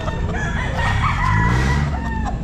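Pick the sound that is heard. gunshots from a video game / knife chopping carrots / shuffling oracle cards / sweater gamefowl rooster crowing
sweater gamefowl rooster crowing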